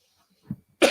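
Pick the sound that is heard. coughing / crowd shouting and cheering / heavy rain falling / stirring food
coughing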